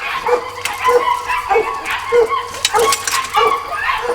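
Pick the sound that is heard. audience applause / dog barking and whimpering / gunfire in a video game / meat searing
dog barking and whimpering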